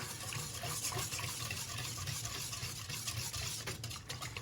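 Quiet, steady stirring as extra-fine semolina is mixed into a batter for Turkish pizza dough, a soft continuous swishing and scraping close by with no talk.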